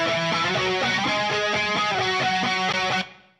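Dense distorted music run through an analog bucket-brigade flanger pedal on its SAD chip setting with a longer delay, giving a sweeping comb-filtered sheen, loud and steady, then stopping suddenly and fading out.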